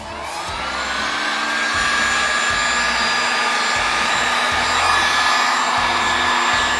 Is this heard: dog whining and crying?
no